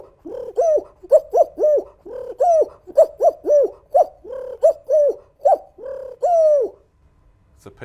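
A person imitates a turtle dove, producing a steady series of soft, rounded cooing notes in a repeating rhythm that ends on one longer coo, close and clear with nothing else audible.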